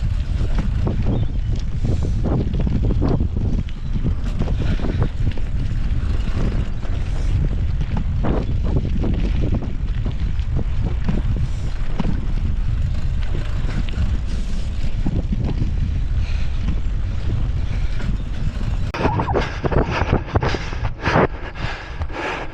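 Strong wind buffets the microphone during a hard 400 m repeat on a running track, a steady loud roar filling the whole stretch with no talk.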